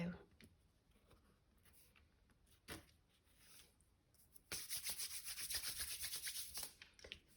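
Excess glue wiped off a folded paper card with a cloth or tissue: a quiet faint scuff near the middle, then a steady, louder rubbing stroke for the last few seconds, close by.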